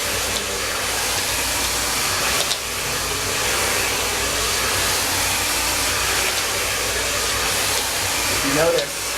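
Hair dryer roaring continuously up close during a salon blow-out with a round brush, lifting regrowth at the roots, a steady loud airy whoosh with slight shifts as the dryer moves.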